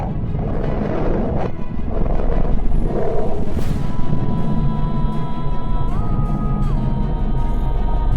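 Sonified space recording attributed to planet Mercury: a dense, steady rumbling drone with crackling texture and faint sustained tonal lines, held at a constant loud level throughout with no voices.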